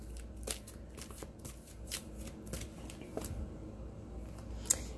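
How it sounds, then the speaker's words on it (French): Tarot cards are shuffled by hand in a steady run of soft riffling and flicking, close and fairly quiet, with one sharper snap near the end. "Donc, je vais tirer encore 3 cartes."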